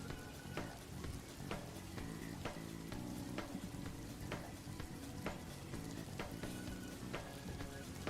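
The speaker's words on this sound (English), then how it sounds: "That's the rain. That's the rain effect." A rain ambience effect in the Dokkan Battle mobile game hisses steadily like a sizzling pan, a dense even patter with faint tonal music underneath and regular soft ticks throughout.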